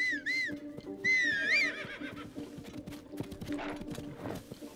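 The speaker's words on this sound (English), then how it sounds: "Do I need to come through with a horse?" A horse in the video game The Legend of Zelda: Tears of the Kingdom gives two rising and falling whinnies, followed by a quick run of clip-clopping hooves, all fairly close and clear.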